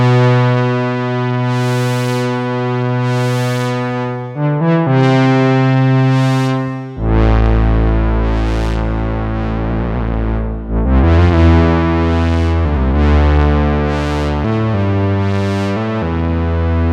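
Minimoog bass patch with aftertouch routed to the filter, played as sustained notes; harder key pressure brightens the tone into sweeping, buzzy swells, loud and up close with no speech.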